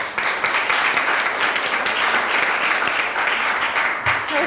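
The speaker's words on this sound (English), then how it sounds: "Let's give you a round of applause." A crowd at a university panel discussion gives a sustained round of applause, many hands clapping at an even level with a faint voice near the end.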